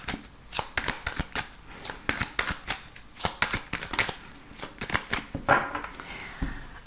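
A deck of tarot cards being shuffled and cut close by, a rapid run of crisp riffling flicks and slaps, loud and rhythmic, ending with a soft thud.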